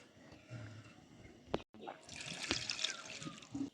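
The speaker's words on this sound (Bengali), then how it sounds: "কপি কেটে নিয়েছি, কপিটা আমি এখন ধুয়ে নেব।" Chopped cauliflower being rinsed under running water in a home kitchen, a steady trickle and splash that grows louder in the second half, with a couple of sharp knocks.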